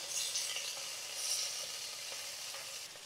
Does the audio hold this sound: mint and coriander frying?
yes